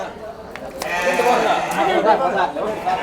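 Sheep bleat through steady crowd chatter at a busy Kadiri livestock market, the calls blending into the constant murmur of voices nearby.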